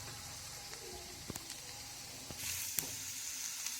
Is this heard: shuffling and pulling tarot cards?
no